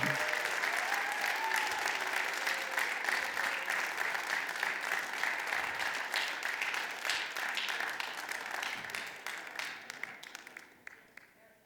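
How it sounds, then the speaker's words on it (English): An audience at a Westchester Jewish Council gala claps for an award presentation, broad sustained applause that runs for several seconds before thinning out and fading near the end, with a voice faintly underneath. "Let's have a big round of applause as we invite Jennifer to receive her award."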